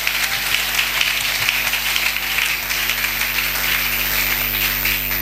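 Congregation applauding during a church service, steady dense clapping over a constant electrical hum, continuous and moderately loud without a break.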